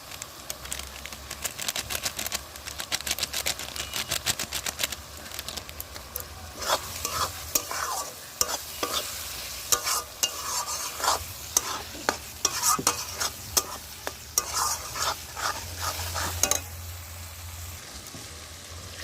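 Spice masala for chicken kosha frying in a pan, an ongoing sizzle broken by frequent rhythmic scraping and clattering stirs, close and fairly loud with no talk.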